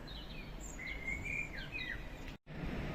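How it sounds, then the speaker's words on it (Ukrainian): Faint birds chirp and trill in short scattered phrases over a low background hiss, with a brief dropout near the end. "десь на роботу тебе вже співають пташки"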